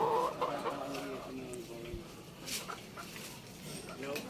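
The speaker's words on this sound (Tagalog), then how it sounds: "mga manok niya. Mga chicken." Chickens cluck and squawk at close range, with a few scattered calls over faint background noise.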